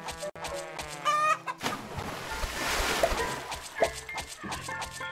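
Chickens cluck over and over in a farming video game, loud and close, with mixed chatter and a few sharper squawks.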